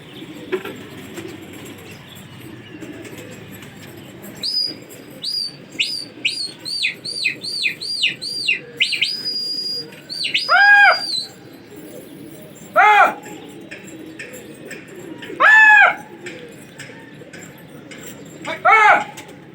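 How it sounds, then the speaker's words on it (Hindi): A flock of racing pigeons returns overhead in a rooftop pigeon-flying contest, bursts of wing flapping and chirpy calls coming in uneven clusters, some close and loud, over faint background voices. "ये आ रहे हैं कबूतर।"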